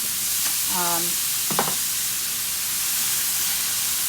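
Shaved steak fries in a super big skillet with a loud, even sizzling hiss that barely varies, and a short voice sounds faintly near the start.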